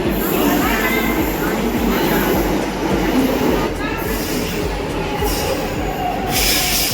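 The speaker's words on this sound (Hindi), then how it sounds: "अभी हमारी मेट्रो भी आने वाली है फिलहाल" A Delhi Metro train pulls into the station with a loud continuous rumble, low hum and rail rattle, passing close by while crowd chatter murmurs underneath.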